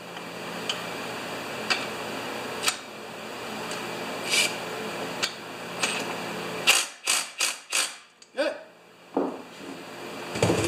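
A ratchet tightens the nut on a Stihl FS 56 RC string trimmer, starting with slow, spaced clicks and ending in a quick run of sharp, close ratcheting strokes.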